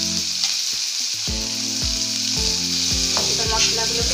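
Chicken frying in a cooker with chilli, cumin and coriander powder, a loud continuous sizzle broken by regular scraping stirs and knocks of a spatula, close by.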